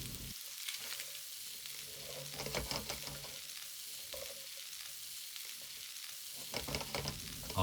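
Bitter melon stir-frying in a pan for goya chanpuru, a steady close sizzle with repeated scraping and clattering of the spatula as the ingredients are tossed and mixed, continuous throughout with no voices.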